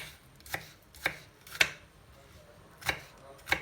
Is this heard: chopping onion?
yes